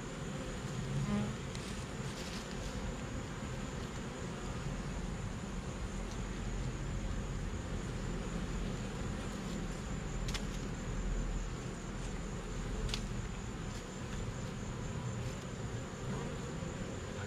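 Honeybees drone steadily around comb cut from a cable box, a dense, continuous buzz close by, with faint traffic hum beneath and no talking.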